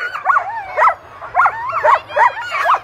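Sled dogs at a Fur Rondy Open World Championship sled dog race, yipping and barking in quick, high-pitched bursts, several close together in a short excited run, loud and near.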